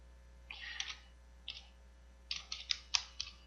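A name is typed on a computer keyboard in a quiet room, with short bursts of crisp key clicks. Scattered taps come first, then a quicker run of clicks near the end.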